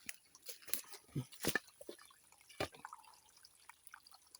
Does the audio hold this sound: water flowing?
yes